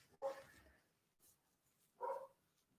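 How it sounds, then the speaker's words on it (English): A dog barks from upstairs in a house, two muffled, distant barks a couple of seconds apart, faint against a quiet room. "you can hear my dog upstairs right now"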